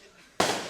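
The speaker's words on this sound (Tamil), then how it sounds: "அது வெடி சத்தம்." A single loud firecracker bursts abruptly after a near-silent moment, a sharp close-range blast that leaves a brief noisy tail.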